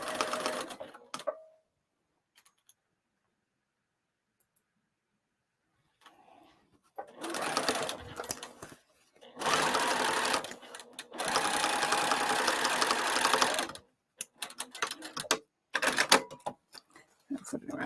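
Sewing machine stitching around the edge of a pop-up cross-body bag's exterior, running in several bursts of steady mechanical whirring separated by pauses, with a faint voice in the gaps.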